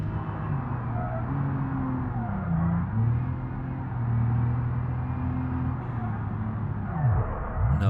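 An ETK car in the BeamNG video game drives along a track, its engine droning steadily with pitch rising and falling as it revs, then sweeping down sharply near the end.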